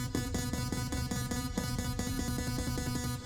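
A continuous musical passage with steady rhythmic chords and bass runs through a stereo delay whose right-channel delay time is set longer, giving repeated echoing hits throughout at an even level.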